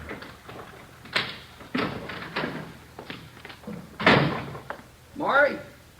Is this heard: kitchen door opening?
yes